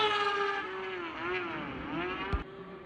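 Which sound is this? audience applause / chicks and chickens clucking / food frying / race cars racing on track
race cars racing on track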